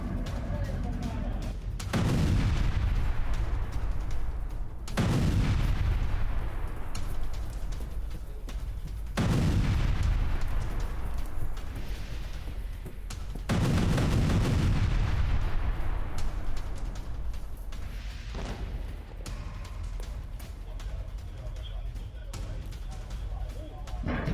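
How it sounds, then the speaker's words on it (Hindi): Heavy rocket and artillery fire in war footage from the Hezbollah–Israel fighting: several loud booming launches or impacts at intervals of a few seconds, each trailing off into a rumbling decay. "हिजबुल्लाह ने इजरायल पर 300 से ज्यादा रॉकेट दागे।"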